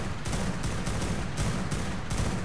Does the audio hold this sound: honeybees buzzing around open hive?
no